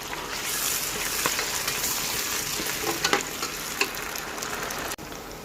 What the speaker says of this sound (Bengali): এগুলো আমি এবার সবগুলো ভালো করে নেড়ে মশলাগুলো কষিয়ে নেব।